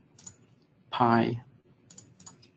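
Several light keystrokes on a computer keyboard, close and brief clicks, with a short spoken word from a person between them.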